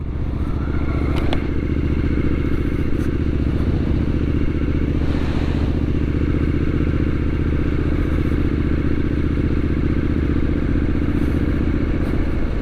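A Triumph Street Scrambler 900 motorcycle engine drones continuously while riding, with steady wind rush and occasional faint clatters over the constant hum.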